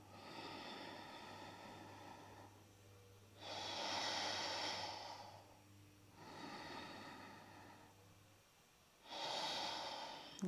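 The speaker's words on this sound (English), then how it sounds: "Full deep breaths." Deep breathing during a core exercise, with slow alternating inhales and exhales. There are three long, close, airy breaths with quieter pauses between them, and a faint low hum sits beneath the first part.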